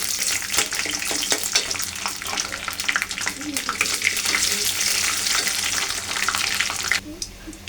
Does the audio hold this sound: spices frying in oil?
yes